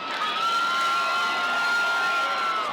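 A minor-league baseball crowd cheers and roars loudly and continuously during the seventh-inning stretch at a ballpark in Albuquerque, with whoops and shouts blending into a dense wash of voices.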